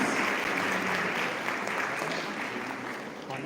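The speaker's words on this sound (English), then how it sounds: "A big round of applause for all the recipients of degrees" Steady applause from a large crowd at a college convocation, dense continuous clapping filling the whole stretch and tapering slightly toward the end.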